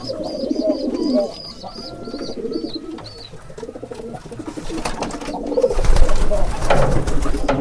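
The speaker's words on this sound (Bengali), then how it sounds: "এই কবুতরটা কীরকম ডাক দেয় দেখেন ভালো করে" A desi pigeon coos in repeated soft, rolling phrases close by, with other pigeons and birds faintly around it, and shuffling and rustling noise building toward the end.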